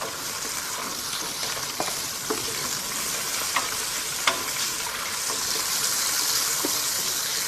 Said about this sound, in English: Put a bit of garlic into the oil, like so. Toss the scallops in.